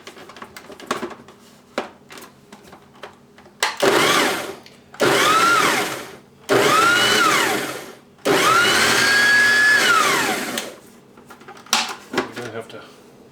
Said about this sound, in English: I got as much of that coleslaw mix as I could into the food processor